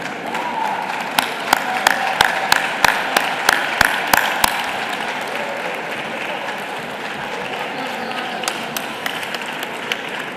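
An audience applauds at a FITUR evening event, scattered sharp claps rising into a rippling round and then tapering off, with faint talk beneath.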